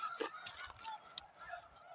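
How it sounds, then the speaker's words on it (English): American wigeons call faintly from the water at a wildlife refuge, giving several soft honking whistles spread across the moment. The calls are quiet and thin against a still background. "American widgeon."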